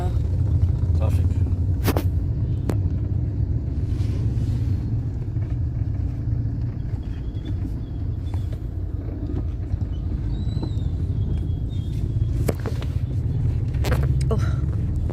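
Busy Indian street traffic on a rainy day, with many motorbikes and other vehicles producing a steady, loud low rumble of engines throughout, scattered horn-like tones and passing bursts, and people talking over it.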